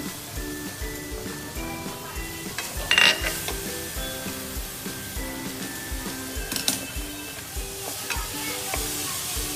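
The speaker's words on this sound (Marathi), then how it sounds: "आता आपण मस्त असं खोबरा त्याच्यामध्ये शिजवून घेणार आहे" Grated fresh coconut cooks in melted jaggery with cardamom powder while a spatula scrapes the pan in a steady, repeated rhythm, with a few louder clanks against the metal over a soft background bubbling.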